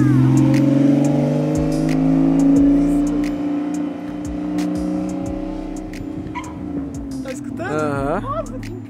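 Porsche car engine revving and accelerating loudly up close, a strong sustained roar with rising pitch, while people talk and exclaim over it.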